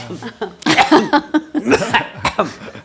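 A few harsh coughs burst out close up, mixed with breathy chuckling sounds, uneven and loud.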